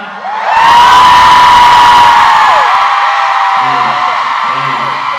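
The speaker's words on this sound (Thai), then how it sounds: "ถ้าชอบขอเสียงกรี๊ดดังๆ อีกสักรอบได้ไหมครับ" A loud crowd of fans screams and cheers in a sustained roar after a brief voice, shrill shrieks carrying on without pause, with some talk under it near the end, at a series premiere talk event.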